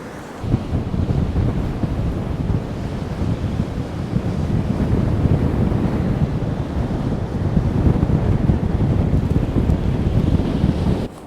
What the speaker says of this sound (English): Very windy now, sand's blasting along the beach